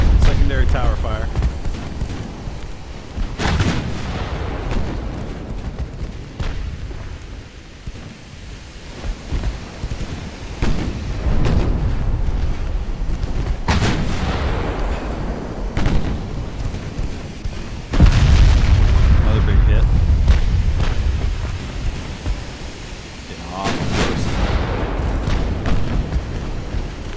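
Naval battle in the warship game Ultimate Admiral: Dreadnoughts, with heavy gun booms and shell impacts rumbling over a constant wind-and-sea wash, dense and loud, while a player talks over it.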